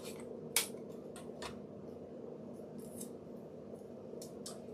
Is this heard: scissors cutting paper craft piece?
yes